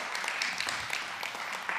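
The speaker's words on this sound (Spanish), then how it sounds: "Dale un aplauso al Señor porque están ya en su casa" Church congregation applauding, a brief burst of scattered handclaps with bright sharp hits running under a voice.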